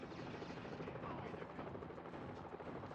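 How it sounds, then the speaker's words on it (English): Helicopters in the Mission: Impossible video game: a continuous, muffled rotor drone, steady and moderately faint, with no clear voices. "Make that more helicopters."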